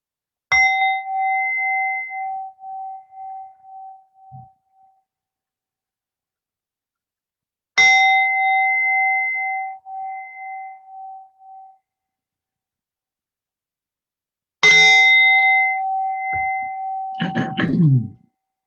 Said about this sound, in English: And as you hear the gong, on the third gong, slowly coming out from meditation.